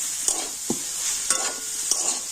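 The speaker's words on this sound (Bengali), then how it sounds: "আর এখন আমি সব কিছু কিন্তু খুব ভালো করে নাড়াচাড়া করে নেব" A potato and cauliflower filling with spices is stirred in a pan, with a few distinct spatula scrapes and taps over a constant soft sizzle, close up, no voices.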